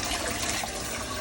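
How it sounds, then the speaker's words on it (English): Hot water running from a tap into a sink while a fish tank plug is rinsed, a steady close gushing splash throughout. "turn the water back on to hot"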